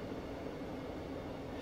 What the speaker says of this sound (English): So I'm working this train from Bletchley to Bedford.